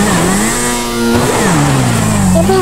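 An XUV 500 engine in GTA 5 revving loudly on a snowy mountain, its pitch dipping and climbing again in a sustained close roar, alone.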